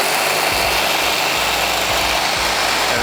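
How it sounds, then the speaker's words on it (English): A power saw cuts through a metal piece during a drift truck build, giving a loud, steady, harsh high-pitched whine for a few seconds, close up with no talking. "And as I'm cutting, I'm trying to make sure I'm cutting straight through the piece."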